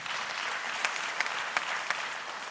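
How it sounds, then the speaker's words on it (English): A conference audience claps steadily at a governance forum on the Sahel, a dense, even wash of applause with a few sharper individual claps standing out, sustained throughout without any talk. "So please, let's give them a round of applause."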